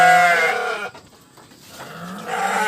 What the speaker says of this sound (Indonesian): kambing itu berbunyi.